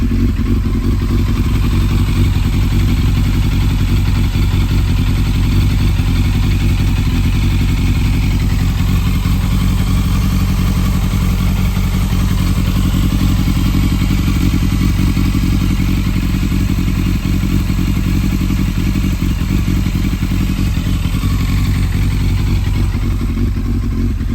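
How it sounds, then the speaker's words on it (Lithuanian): Yamaha FZS 600 motorcycle engine idling up close, a loud, steady mid-pitched rumble with faint mechanical clatter running unbroken throughout. "Žiūrim, kaip dirba variklis"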